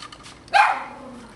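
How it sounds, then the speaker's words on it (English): A dog gives a single sharp bark, close and clear against a quiet indoor background. "Doggy? Doggy."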